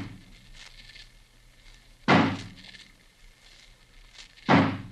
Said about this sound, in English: We'd better break the door down.